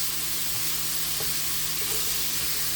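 Shrimp sizzle in a hot pan with a steady, close, loud frying hiss and crackle that carries on without a break, with no voices over it.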